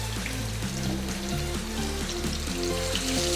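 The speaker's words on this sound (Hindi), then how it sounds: "देखिए हमारा घी गर्म हो चुका है, इसके अंदर इस तरह डाल देते हैं।" Chapli kababs fry in hot ghee in a frying pan, a dense, continuous sizzle that holds steady throughout, close and moderately loud, with no talking.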